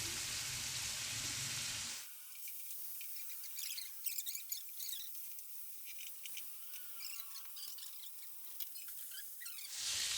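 Steak frying in about three tablespoons of butter in a pan gives a steady close sizzle with scattered crackles and pops, after a louder burst of noise at the start and end.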